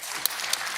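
A short burst of audience applause at a TED2025 talk, a dense crowd clapping that is loud and close.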